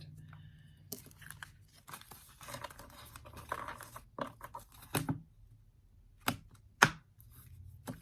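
Tarot cards being shuffled by hand in bursts of crisp riffling and papery flicks, close and fairly quiet, with sharp slaps of the deck between passes and soft speech in the background.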